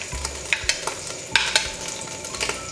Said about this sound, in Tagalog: ilagay na po natin ang ating garlic para masaute siya